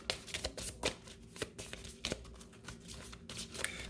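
Cards being shuffled in a series of quick riffles and snaps, close up, with soft irregular bursts and brief pauses between them.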